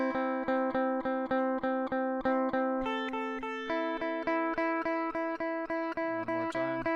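Guitar playing a song slowly in steady eighth notes, each evenly plucked chord ringing close and clear, with the harmony shifting partway through and a brief scrape at the end.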